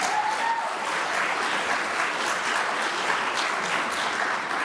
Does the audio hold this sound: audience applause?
yes